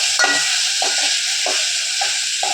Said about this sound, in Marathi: आता आपलं तेल गरम झालं आहे बघा त्याच्यात आता आपण बटाट्याचा पीस टाकू